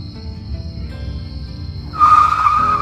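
A cartoon car skids to a stop, a low rumbling engine giving way to a sudden loud, sustained tire squeal in the last second, close and sharp.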